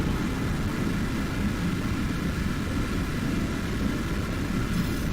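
A fighter jet in a flight game climbs with a dense, continuous engine roar, a steady broadband rumble at even loudness with no talk.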